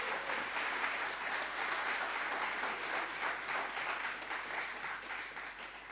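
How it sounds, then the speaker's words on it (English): Audience applause at a visual arts exhibition opening ceremony, honoring the top five entrants; steady, dense clapping from a seated crowd, fairly distant and even throughout. "Could you join me by giving them all a round of applause, please?"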